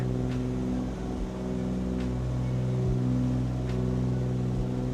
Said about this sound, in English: I hear the engine coming